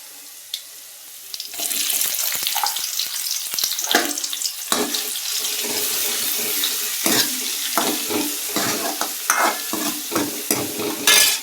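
Onion hits a hot pan with cumin and mustard seeds, starting a loud, steady hiss after a brief quiet moment, with scraping stirs and crackles breaking through the sizzle.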